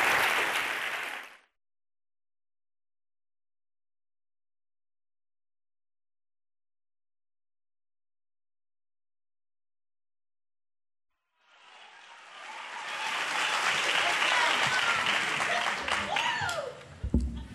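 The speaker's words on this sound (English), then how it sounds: "So give him a big round of applause." Broadway audience applauding and cheering to welcome a performer, a dense, loud roar of clapping that swells in after a long silence and keeps going to the end, with a brief burst of noise at the very start.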